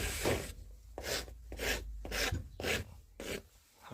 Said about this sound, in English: Keeping the rasp as well nice and flat.